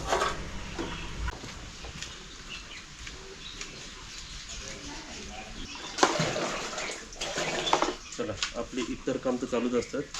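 Water pours and splashes in bursts, louder toward the end, while a person talks and a bird chirps faintly in the background.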